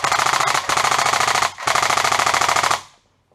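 A GSG G14 EBB airsoft electric rifle firing in rapid mechanical bursts, close and loud: two long buzzing strings of rapid clicks separated by a short gap, then stopping abruptly.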